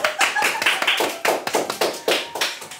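A person claps hands in a quick, steady series of sharp, close slaps with no talking.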